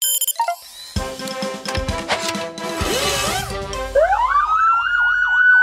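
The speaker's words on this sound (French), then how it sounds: "Ah, voilà un pimpon bien fort." A cartoon truck's siren blares loudly in a children's garage animation, starting with clanks and effects, then rising into a strong warbling wail that keeps cycling to the end.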